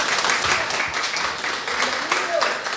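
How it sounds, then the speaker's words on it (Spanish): Church congregation applause during a sermon, continuous clapping from a crowd in a reverberant hall, with murmured voices mixed in underneath. "Le damos un aplauso."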